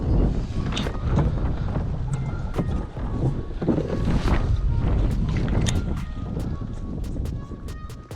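Strong wind roars across open water and buffets the microphone continuously, with water slapping against the hull of a fishing kayak, a Native Slayer Propel Max. It is loud and close throughout, and nobody speaks.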